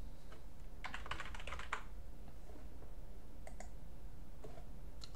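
Typing on a computer keyboard: bursts of quick key clicks, a dense cluster early on, then sparser taps, close and fairly quiet with no other sounds.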